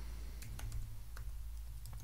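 Quiet, steady typing on a computer keyboard, scattered key clicks over a low hum of room or machine noise, close but faint.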